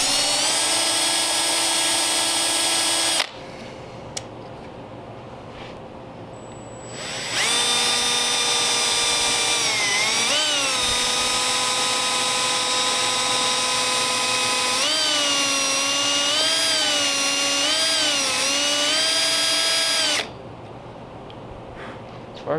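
Power drill whining loudly on a 1939 Ford during window glass removal, running in a long sustained burst with pitch wavering as the bit bites, after a shorter earlier run; close and steady, with quiet gaps between.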